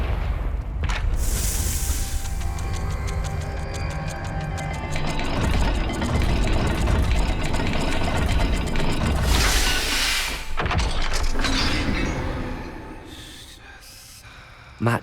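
A stone puzzle door mechanism in Hogwarts Legacy grinds and rumbles open, a loud sustained churning with ratcheting clicks that builds, then tapers off near the end.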